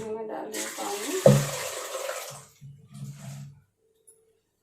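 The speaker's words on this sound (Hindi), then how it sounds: "अब इसमें मैं डाल रही हूँ पानी।" Water poured from a tap or jug into a pot for making tea at home, a broad rushing splash lasting about a second and a half, then a short clatter and faint sounds of the pot; a voice speaks before it.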